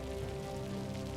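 Heavy rain falls at night in a steady, dense patter that fills the whole stretch evenly, with no voices or other sounds breaking through.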